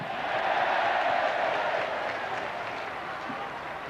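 A stadium crowd roars at the 1986 England v West Germany World Cup semi-final football match, a dense, loud, sustained wall of noise that swells early and holds steady without letup.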